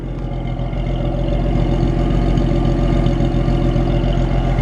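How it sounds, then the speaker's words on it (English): A 1953 Chevrolet 3100 pickup idles with its mid-60s 250 six-cylinder and Powerglide, a steady, even, low rumble recorded up close and loud, smooth and unbroken throughout with no talking. "Nice sounding engine. Of course, it's quiet, but man, just a really healthy engine."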